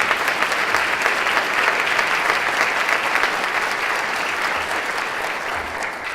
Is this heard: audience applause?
yes